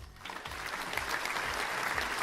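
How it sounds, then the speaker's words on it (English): Applause from a small group at a book club meeting, steady dense clapping with no pauses, fairly faint and moderately distant. "everybody give a round of applause for Mo the sheep."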